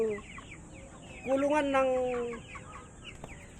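Chicks and a duck that has hatched a brood, plus other fowl nearby, with steady clucking and cheeping throughout and a louder drawn-out call in the middle, while a person speaks over the birds.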